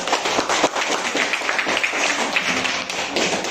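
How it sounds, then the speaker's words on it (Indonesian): A class applauding a group with brisk, dense handclaps that carry on evenly throughout. "Tepuk tangan untuk kelompok ini."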